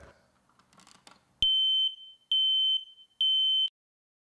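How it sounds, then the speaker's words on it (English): Three long, piercing electronic beeps from a smoke alarm, each lasting about half a second, evenly spaced after a brief rustle of handling noise. "Test smoke alarms monthly."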